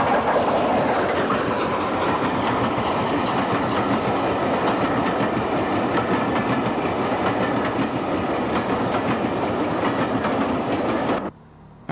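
Steam locomotive Bittern runs under overhead wires past Sandbach toward Crewe, a loud continuous rumble with clickety-clack of carriages rolling by close, cutting off abruptly near the end.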